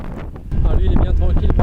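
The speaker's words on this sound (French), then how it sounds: "Le vent est pour l'instant de travers, il nous pousse." Wind buffets a sailboat under sail with a broken engine, entering an unfamiliar channel near rocks, a steady loud rushing that grows stronger partway through, with a voice talking over it.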